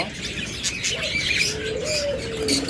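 Caged budgerigars of many colours chirp in an aviary, several short bright calls and twittering notes overlapping up close, with brief soft fluttering among them.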